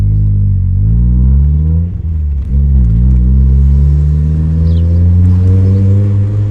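A Mazda MX-5 NA engine revs briefly during double-clutching, a loud, close, low purring drone with pitch rising and falling through a couple of quick dips and blips.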